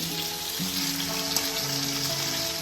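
Potato and pointed gourd pieces frying in plenty of oil, a dense, continuous sizzle close by with faint tonal hum underneath.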